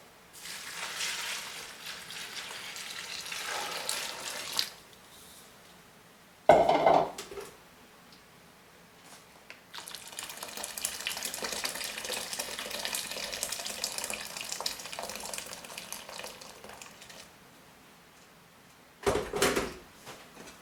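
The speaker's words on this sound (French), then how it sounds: "Et on va rajouter de l'eau. Eau bouillante, de préférence." Boiling water poured from a container onto soap flakes and soda crystals, two stretches of splashing pour broken by a short pause and a couple of clinks from the pot or bowl.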